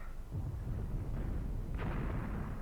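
Distant German artillery fire in the Graviteam Tactics war game, low muffled rumbling booms rolling under a dull background, faint and far off, no talking.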